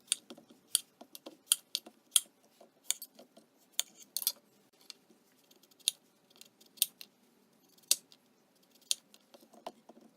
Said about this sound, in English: the first thing I'm going to do is I'm going to trim up my zucchinis